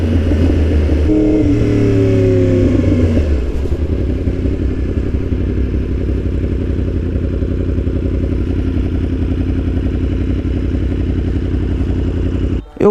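A Yamaha R1 sport motorcycle engine revs up strongly, then holds a loud, steady, rumbling idle close by, with no voices over it until it cuts off abruptly at the end.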